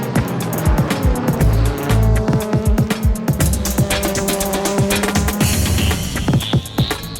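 Race cars roar through the opening lap of a 2004 JGTC round, including the Advent Supra on soft-compound Yokohama tires, engines loud and continuous with rapid gear shifts, passing bursts and a brief tire squeal near the end.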